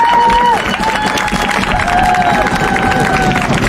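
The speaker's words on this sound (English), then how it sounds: "Give them a round of applause." A crowd at a high school marching band senior night show applauds and cheers in a steady, loud wash of clapping and voices, with thin sustained tones held above the noise.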